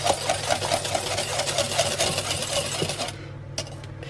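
Vanilla being whisked into a mixture in a bowl for low-carb candied walnuts, a quick steady run of light metallic taps and scrapes for about three seconds, then near quiet with one faint clink.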